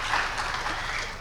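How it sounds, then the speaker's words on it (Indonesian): Brief burst of crowd applause at a campus event in Kendari, a dense steady patter of many hands lasting about a second at moderate loudness. "Tepuk tangan dulu."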